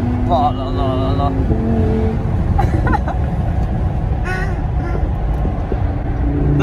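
A Lamborghini engine rumbles steadily and loudly throughout while the car is driven, with a few brief rising revs, mixed with people talking over it.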